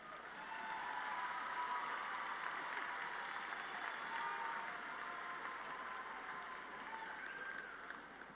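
Applause for baccalaureate graduates fills a hall during a university commencement ceremony, a steady wash of clapping from many hands that holds for several seconds and softens slightly toward the end.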